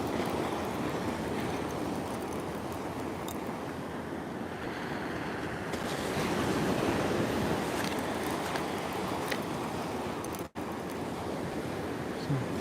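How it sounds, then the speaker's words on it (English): Big sea waves break on the shore at Bacton, North Norfolk, a continuous roaring wash of surf mixed with strong wind buffeting the microphone, steady and loud with no talk. "Some big old waves coming in."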